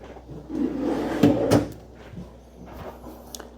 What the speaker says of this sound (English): this actually has a drawer down here as well